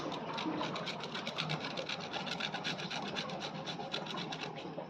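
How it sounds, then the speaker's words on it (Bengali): Green zest of a gondhoraj lemon being grated with a light hand, producing a fast, even, continuous rasping scrape that stays faint and close for the whole stretch without pauses. "হালকা হাতে সবুজ অংশটা ঘষে নিতে হবে"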